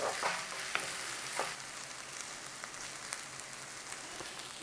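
Onions fry in a pan while being stirred, giving a soft, steady sizzle broken by a few scraping clicks of the utensil, all fairly quiet and close.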